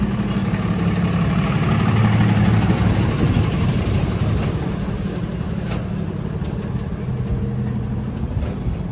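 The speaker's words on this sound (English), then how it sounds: "I've been holding on to this truck to go by." A large truck rumbles past nearby, a loud sustained engine drone with a hiss of air brakes that eases slightly toward the end, with no voices.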